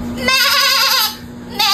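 A goat bleats loudly and close, one long wavering cry followed by the start of another, with a faint steady tone and light background noise underneath.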